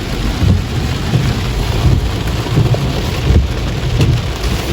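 Heavy rain pours steadily with a low rumbling undertone like distant thunder, loud and continuous throughout.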